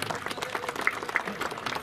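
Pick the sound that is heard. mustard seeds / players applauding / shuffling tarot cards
players applauding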